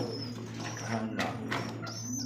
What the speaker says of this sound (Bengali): পিছাটা নর, সামনেটা মাদি কবুতর।